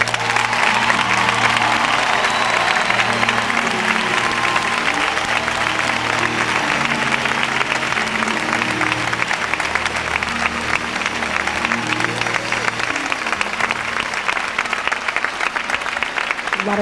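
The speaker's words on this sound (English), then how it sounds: "Come on, clap your hands for Jesus" Sustained, dense applause from a large audience at a church camp meeting, loud and continuous, with musical tones sounding beneath the clapping.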